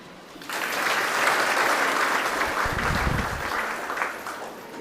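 An audience claps together at a Buddhist religious talk, a sustained wash of applause that swells quickly, holds steady and then eases slightly, heard from within the hall.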